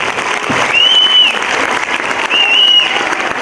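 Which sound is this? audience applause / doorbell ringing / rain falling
audience applause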